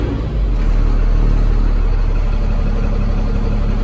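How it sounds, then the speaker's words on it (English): A 2004 Freightliner two-axle cab and chassis truck with a 6-speed and air brakes has just started and is idling. Its engine drone is loud, steady and low, with no talk over it. "Let's fire it up."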